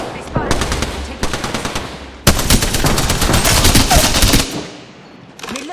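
Rapid automatic gunfire rattles in bursts in the shooter game Apex Legends, loud and close, with a brief gap before one long sustained volley that fades into quiet before a final short burst.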